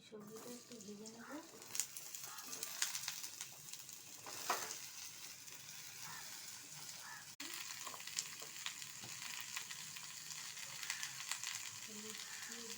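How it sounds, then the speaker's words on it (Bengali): Bottle gourd stems and onion frying in a pan, a constant soft sizzle with occasional scrapes and clinks of stirring, fairly quiet, with a person talking over it. "সবজিটা একটু ভেজে নেব।"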